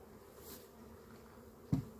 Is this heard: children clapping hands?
no